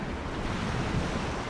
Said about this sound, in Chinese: 还是海浪拍打轻柔的声音等噪音